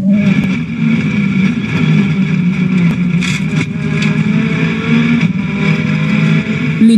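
Ford WRC rally car driving a special stage, a steady droning engine held at sustained revs with a continuous mid-pitched roar and a few brief sharper bursts, fairly close and loud throughout.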